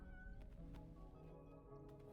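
A winged cat meows in Death Stranding 2, faint and drawn-out calls set against music and a low background hum.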